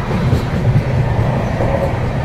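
A train runs on its rails with a steady, loud rumbling roar and wagon clatter throughout, with no voices on top.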